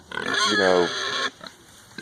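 Pigs on a farm: one loud, close squealing grunt that rises and falls for about a second, followed by a few fainter snorts.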